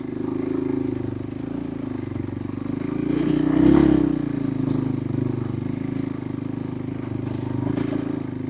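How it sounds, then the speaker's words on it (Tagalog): A motorcycle climbs a rough quarry mountain trail in Rodriguez, Rizal, its engine droning steadily and swelling louder in the middle before easing back. Gravel clatters now and then underneath, and the sound is close throughout. "lakas ng motor na to"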